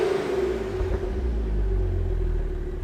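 Porsche Panamera 4S engine with a steady, deep low rumble that holds evenly and close for about three seconds, with no voices over it.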